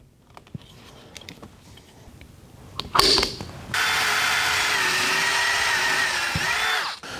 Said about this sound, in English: mark the center, and just drill a hole right in the center